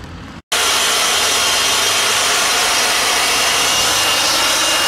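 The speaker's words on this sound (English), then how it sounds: "we're just letting them dry a bit before we get the hair dryer onto them." A hair dryer switches on abruptly and keeps blowing with a loud, steady, breathy roar that never varies.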